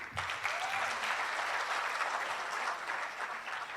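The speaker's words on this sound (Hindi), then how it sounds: "बजाओ ताली इन लोग के लिए" Steady, dense applause from a crowd of people, sustained throughout without pause.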